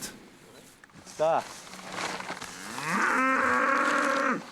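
Cattle low repeatedly on an organic farm in Corsica with around 130 suckler cows: a short moo, then a long, loud, sustained bellow filling the second half, heard close by.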